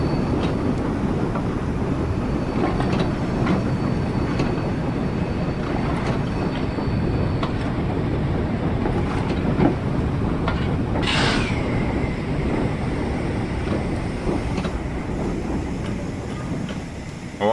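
A steam locomotive hauls a heavy train in the Train Sim World 5 game, a loud continuous rumble with rhythmic clanking and a brief sharp hiss partway through.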